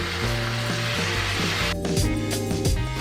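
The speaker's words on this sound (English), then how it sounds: "And then I'm just gonna go in and just add some balsamic vinegar." Balsamic vinegar hitting a hot pan of mushrooms and spinach, a steady loud sizzle with a stronger hiss and crackle partway through, with no talking.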